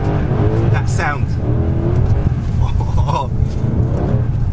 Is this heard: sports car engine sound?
yes